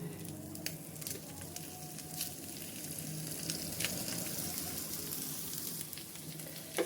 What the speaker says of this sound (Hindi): भूनने के बाद अब इसमें मैश किया हुआ हम आलू डाल देंगे।